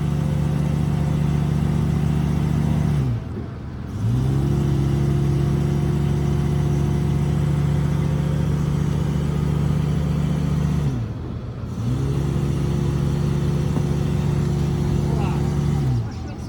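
Engine of a truck stuck in the ground revs hard in long, steady roaring pushes, dropping off briefly twice between attempts, loud and close throughout.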